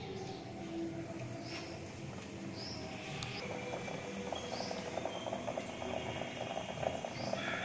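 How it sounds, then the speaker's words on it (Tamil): Chettinad oil brinjal kuzhambu simmers in a pot on a medium-heat stove, a soft continuous bubbling and popping with occasional small spits growing slightly busier toward the end. "அடுப்பை வந்து நல்லா மீடியம் ஹீட்ல வச்சு நல்லா குழம்பு பச்சை வாசனை போறதுக்கு நல்லா கொதிக்க வச்சுக்கோங்க"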